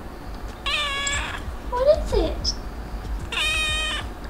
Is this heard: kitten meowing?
yes